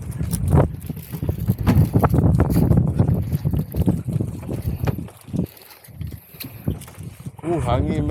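Steady wind buffeting the microphone on a small boat at sea, a loud rough rumble running throughout with people talking over it nearby.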